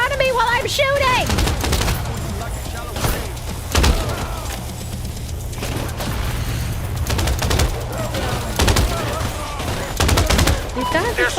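Rapid gunfire in the heist video game Crime Boss, bursts of automatic shots and single cracks repeating across the stretch, loud and close, with someone talking over parts of it.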